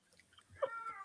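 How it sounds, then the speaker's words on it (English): A house cat gives a single short meow, fairly close but soft, in an otherwise quiet room with faint background rustle. "Shut up, cat."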